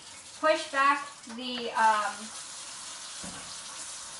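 Tap water runs steadily from a sink faucet into a hookah stem, a faint continuous splashing hiss beneath a voice explaining the job.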